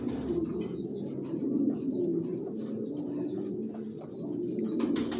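Racing pigeons in a loft, a steady chorus of low, overlapping coos with a few faint chirps above, continuous and close throughout, no talking.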